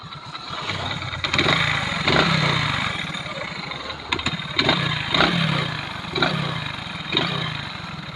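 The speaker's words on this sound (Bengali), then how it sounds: "এবার আমরা দেখাবো গাড়ির ইঞ্জিনের সাউন্ড" A used motorcycle's engine idles close up with a steady, loud mid-pitched drone. A regular throb recurs about once a second, with a few small revs and knocks along the way.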